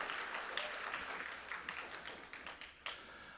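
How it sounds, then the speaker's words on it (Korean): A church congregation at an open house worship service breaks into sustained applause, a dense patter of many hands in the sanctuary that gradually thins and tapers toward the end. "하나님께 박수로 영광 올려드리겠습니다"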